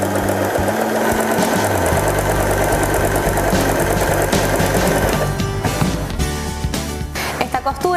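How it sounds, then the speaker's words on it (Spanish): A Janome 3016 sewing machine runs steadily while zigzag-stitching the edge of a piece of fabric, its motor hum and rapid needle rhythm continuous and close, slowing and stopping near the end. "Bajo la palanca del prensatelas para empezar a coser."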